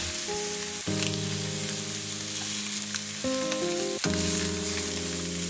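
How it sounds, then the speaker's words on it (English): Chicken wing drumettes sear over high heat in a hot pan, a continuous hissing sizzle running underneath louder sustained musical chords that shift a few times. "Just heat your pan and throw in the wings. We're gonna sear them till golden brown over high heat."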